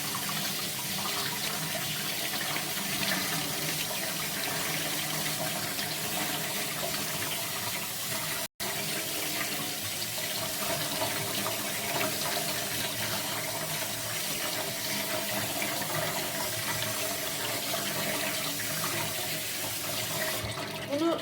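Strawberries are washed under a running kitchen tap, giving a continuous, even hiss and splash of water throughout, close and moderately loud, broken only by one very brief gap.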